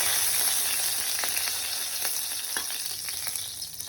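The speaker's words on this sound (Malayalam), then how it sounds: "ശകലം കരിയാപ്പില ഇട്ട്" Curry leaves crackle in hot oil for a Kerala-style egg and spinach thukaran, a steady close frying hiss dotted with small pops throughout.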